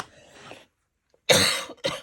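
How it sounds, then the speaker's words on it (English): Two harsh coughs ring out up close, a long one followed by a shorter one, after a breathy sound and a brief pause. "excuse me for the cough"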